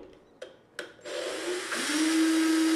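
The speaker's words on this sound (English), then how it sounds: "Stop drilling when you feel resistance." A power drill drives a screw into a slotted wall anchor sleeve, starting after a few taps and knocks, then a steady whirring motor that rises in pitch and holds close and loud.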